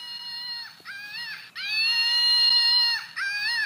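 A Screaming Monkey toy lets out high, piercing electronic shrieks, several sustained wails with brief breaks between them, loud and close with no voices.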